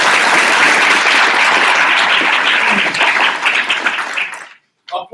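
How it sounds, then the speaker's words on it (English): Loud, dense applause from an audience at an open house fills the room for about four seconds, then breaks off into near silence, followed by a brief burst of claps at the end. "Applaud for yourself."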